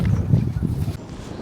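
Strong wind buffets the microphone in a sunny waterside park, a low, rough rumble that swells and eases without pause.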